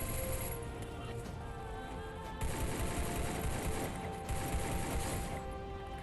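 Automatic gunfire from the Free Fire battle-royale video game crackles in steady rapid bursts, dense and fairly loud, layered over game sounds with no talk.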